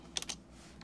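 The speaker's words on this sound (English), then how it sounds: "then you just basically type whatever you want to type" A few quick keystrokes on a computer keyboard while typing thumbnail title text, a short cluster of clicks up close followed by one fainter tap, with no talking.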